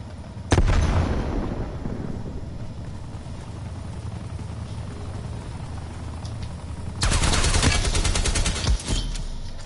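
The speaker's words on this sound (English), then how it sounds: "Throwing grenade." Gunfire in the video game Call of Duty Cold War during a grenade throw: a sharp burst of shots near the start, then steady combat din, and a loud, dense volley of rapid gunfire from about seven seconds on.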